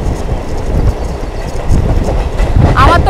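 A MEMU local train runs between Kharagpur and Purulia, its wheels rumbling steadily on the rails, loud and continuous from inside the carriage, with a brief squealing rise near the end.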